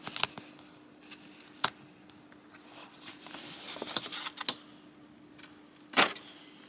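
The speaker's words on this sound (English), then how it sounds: "This is still warm, so I'm still gonna unwrap it" A still-warm heat-pressed phone case is unwrapped, and its plastic wrap gives off crinkles, crackles and sharp snaps in irregular bursts. A steady low hum sits underneath, and the handling is close and quiet.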